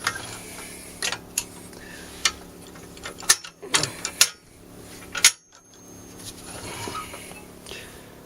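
A hydraulic scissor lift for a Harley Davidson motorcycle is lowered, giving irregular mechanical clicks, ratcheting ticks and clunks, close and moderately loud, with quiet hum between the louder knocks.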